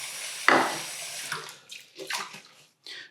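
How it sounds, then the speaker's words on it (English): Tap water runs steadily at a bathroom sink while an alum block is rinsed under it, a close, hissing flow with splashy surges as the block passes through the stream. "let's wash this alum block off"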